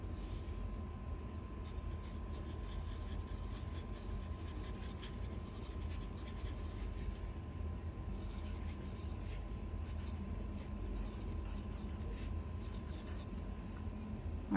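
A pen writing on Endless Reporter notebook paper, faint continuous scratching strokes close up over a steady low background hum, with no talking.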